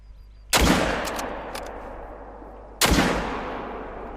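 Two loud, close rifle shots fired at a blacktail deer in the hunting video game Call of the Wild, each a sharp crack followed by a long rolling echo, spaced a couple of seconds apart.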